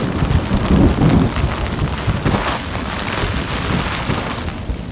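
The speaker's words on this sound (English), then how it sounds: "The storm continues. Lightning and thunder has awoken me again" Steady heavy rain drums on a tent at night during a thunderstorm, with low rumbling thunder swelling early and a gusty, broadband wash throughout, close and continuous.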